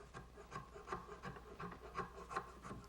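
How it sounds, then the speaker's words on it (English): Small hand rasp filing the tight curves of a wooden rocking horse, a steady series of about eight rough rubbing strokes in an even back-and-forth rhythm, close and moderately quiet with no voices. "I just use this little rasp."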